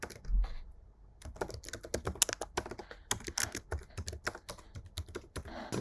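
Quick bursts of key presses on a computer keyboard as an email address is typed, close and crisp with short pauses between runs of keystrokes.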